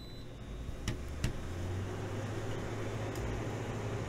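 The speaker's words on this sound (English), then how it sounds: "Now I'm going to turn on my window unit air conditioner that's 3 feet from me." A window unit air conditioner about three feet away hums steadily with a broadband whoosh and low drone, preceded by a couple of sharp switch clicks as it starts up, no voices.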